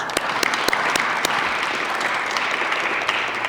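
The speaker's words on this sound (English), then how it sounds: "Give yourself a round of applause." A room full of people at a high school graduation ceremony claps, a steady patter of applause with a few sharp louder claps standing out near the start.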